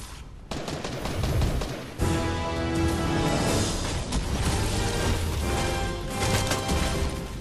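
Dense, continuous gunfire from a shooter video game, with overlapping bursts and rapid fire layered into a loud, busy battle din that runs almost unbroken.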